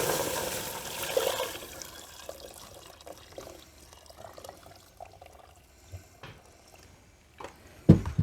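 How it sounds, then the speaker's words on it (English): Vegetable stock poured into a pot for pumpkin ginger soup, a soft liquid splash and pour near the start that fades into quieter kitchen clatter, with a sharp knock at the end. "And now I add my vegetable stock."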